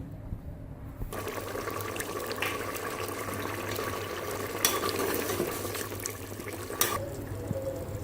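Beef sizzling and being stirred in a pan while frying for achar gosht: a steady, moderate crackle with occasional scraping stirs, no talking.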